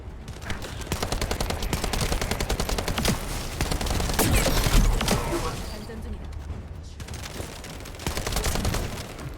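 Rapid, sustained assault rifle bursts in a video game, loud and close, with dense rattling volleys that pause briefly around the middle before resuming.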